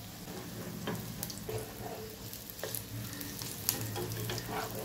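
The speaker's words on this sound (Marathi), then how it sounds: "मीडियम गॅसवर लालसर होईपर्यंत कटलेट भाजून घेऊया।" Pea cutlets frying in oil in a pan over medium heat give a steady, close sizzle with small crackles and a few light clinks, with no voices.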